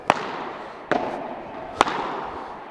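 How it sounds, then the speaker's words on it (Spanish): Three sharp, crisp pops from a padel ball struck by a Cork padel racket, spaced roughly a second apart, each a brief loud crack with a short ringing tail, no voices. "Já o barulho é completamente diferente e da forma como sai a bola da raquete, dispara muito rápido"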